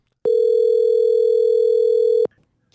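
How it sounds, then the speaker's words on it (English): A telephone dial tone sounds while a call is being placed: a single steady electronic hum held for about two seconds, loud and clean, then cut off abruptly, with no talking. "So let's get Patrick on the phone"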